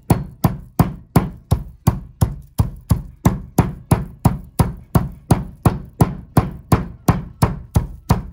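Garlic cloves smashed one after another with steady, sharp knocks on a kitchen board while cooking with thyme, coriander and cumin, about twenty close, loud, evenly paced blows with no talking.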